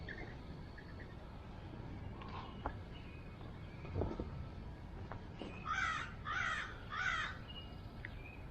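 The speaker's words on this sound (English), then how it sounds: "I hear the crows all around us" Crows caw several times, with a quick run of three loud harsh caws near the end, over a soft outdoor background with distant thunder.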